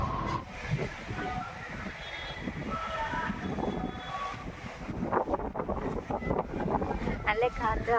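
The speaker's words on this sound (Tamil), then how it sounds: "நல்ல காற்று ஆளை தூக்கிட்டு போகுது." Strong wind gusting outdoors at a home in Kerala, a steady rushing roar that buffets the microphone throughout, with a voice talking over it and rougher bursts toward the end.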